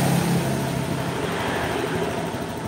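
A Honda Beat scooter engine, recently rebuilt at a workshop, idles smoothly and steadily close by with a low, even hum and no voices.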